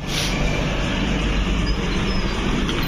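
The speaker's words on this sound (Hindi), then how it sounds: "ऊपर से ट्रेन जा रही है" A train rumbles across a bridge overhead above a road underpass near a junction, a loud, steady roar filling the whole stretch without talk.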